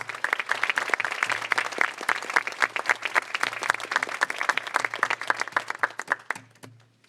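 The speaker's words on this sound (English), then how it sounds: "So let's give her a round of applause." Applause from an audience at the opening of a NYC School of Data conference, a room of clear individual claps that rises, holds, then thins out and fades to a few last claps at the end.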